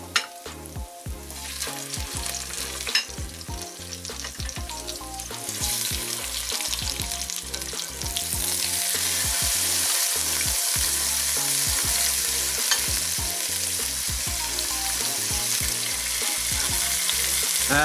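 Oxtail frying in a hot pan for a spicy Asian oxtail stew, with a steady loud sizzle that swells and grows hiss-heavy partway through, broken by stirring clatter, no voices.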